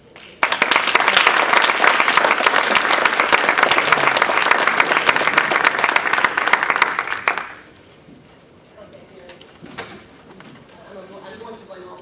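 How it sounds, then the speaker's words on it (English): Audience applause at a Toastmasters Table Topics contest, a dense, loud burst of clapping lasting about seven seconds that then stops abruptly, leaving a quiet room with faint murmurs. "That was a really weak round of applause."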